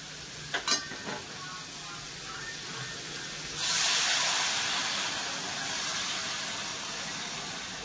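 A few clinks, then a sudden loud hiss and sizzle as hot water hits a hot pan for veg pulao, settling into a steady steaming rush.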